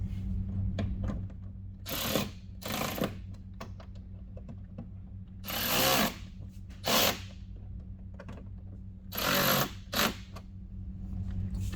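A power tool tightens the mounting bolts on Rokblokz mud flaps for a 2014–2018 Jeep Cherokee, giving several short, loud buzzing bursts with quiet pauses between them, close by and with no talking.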